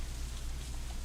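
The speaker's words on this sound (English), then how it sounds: "drowned out by an even heavier burst of rain" Heavy rain pours down steadily in a game scene, a dense, loud hiss with no break or voices, filling the whole moment evenly.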